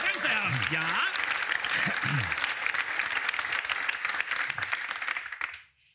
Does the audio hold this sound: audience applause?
yes